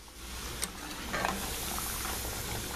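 Plantain slices for tostones frying in hot oil, a steady close crackling sizzle with small bubbling pops throughout.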